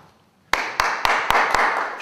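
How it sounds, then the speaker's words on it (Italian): A few people clap in sharp, separate claps, about five loud slaps at an uneven rhythm after a quiet start, close and clear. "Ci voleva l'applauso a questo punto, guarda, si stanno applaudendo tutti."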